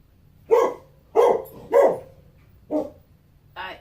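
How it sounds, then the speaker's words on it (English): A dog barks four times in a slow, uneven series, fairly close and moderately loud, then gives a shorter yip at the end over a quiet room hum. "Sorry for the barking."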